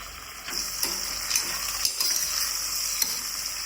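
Fried onion and masala being stirred into stuffed eggplant in a pan: a steady close sizzle with a few sharp scraping clicks from the stirring, no talking.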